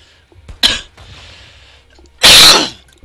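A man coughs close to the mic while playing a computer game: first a short, softer burst, then after a pause one loud, harsh, explosive cough, with quiet room tone around them.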